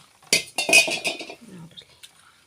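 An ingredient is washed by hand in a pot of water, giving a short run of splashy sloshing and metallic clinks against the pot, close and fairly loud, then a few faint knocks as it settles.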